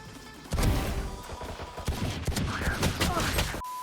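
Gunfire in a video game on the Breeze map: a dense, loud burst of rapid shots and impacts lasting about three seconds, then stopping abruptly.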